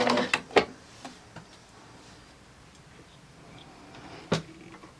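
A sewing machine stitching a Y seam: a few quick mechanical ticks and clatters at the start, quiet between, then one more short burst of stitching near the end.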